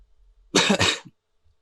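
A single short, weak cough voiced by a person imitating it, a brief breathy burst followed by a faint throat sound, otherwise quiet.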